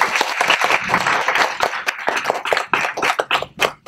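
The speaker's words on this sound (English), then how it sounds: "give yourselves a hand of applause because you worked hard and you were amazing" Moot court competitors and audience at a 2017 internal competition clap loudly and closely, the applause uneven and surging, with individual claps standing out as it tapers toward the end.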